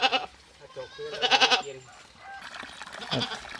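Goats on a farm bleating in several short, wavering calls, fairly close, with quieter gaps of ambient farm noise between them.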